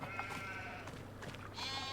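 Sheep in the farming video game Farming Simulator 25 bleat in a quiet pasture scene: soft, wavering calls that come and go over low background ambience, fairly faint, with no talk.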